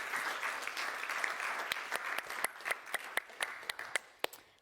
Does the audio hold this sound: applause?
yes